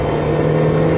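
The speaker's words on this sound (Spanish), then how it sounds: "Bajo a segunda, doble embrague segunda." A car engine revs steadily and close up during a double-clutch downshift into second gear while overtaking on a highway, with a continuous droning tone and no talk.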